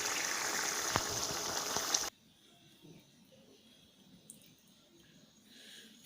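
Cauliflower, potato and rohu fish curry is poured from the cooking pot into a serving dish. A loud, close liquid rush and clatter lasts about two seconds, then gives way to near silence with faint small knocks.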